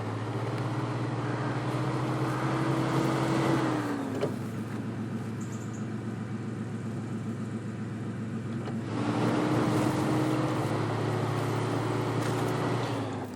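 A 4x4 off-road truck engine in the snowy driving game SnowRunner runs at a steady mid-range drone, easing back for a few seconds and then rising again under load, with no talking.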